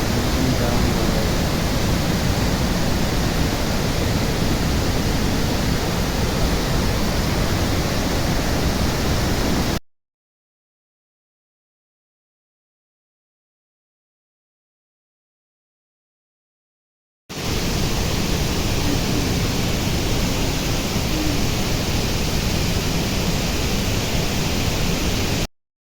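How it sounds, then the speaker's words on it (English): Mountain spring water rushing down from the peaks along the Annapurna Base Camp trek in Nepal, a dense loud broadband roar heard close, cutting out to silence midway before returning. "The spring coming from all the mountains and flowing down the way."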